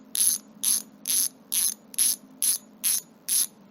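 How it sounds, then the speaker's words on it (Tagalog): Koozer cruiser bicycle rear hub freewheeling, giving eight evenly spaced bursts of fast, bright, crisp clicking, close and fairly quiet, without talk. "So, ganito yung tunog ng cruiser hubs."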